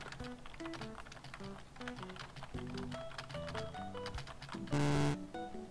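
Rapid typing on a computer keyboard, a dense, continuous clatter of keystrokes over a musical background, with a brief louder burst near the end.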